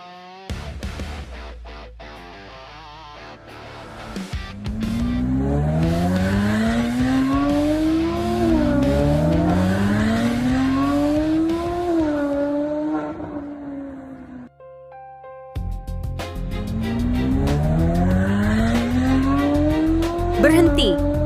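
An Aston Martin's engine revs hard in rising and falling sweeps as it accelerates repeatedly, loud and close, with tires squealing. The roar breaks briefly for a quiet gap before returning, and voices speak over parts of it.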